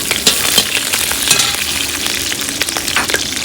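Green chillies and pepper fry in hot oil for a restaurant-style keerai kootu, a loud, close, crackling sizzle with stirring scrapes throughout and no speech.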